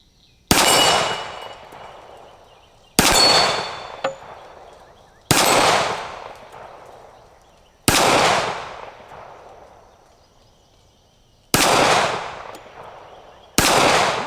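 Six loud, sharp pistol shots from a Colt MK IV Series 80 CCO 1911, spaced two to three seconds apart outdoors, each with a long ringing decay and a metallic clang off a steel plate.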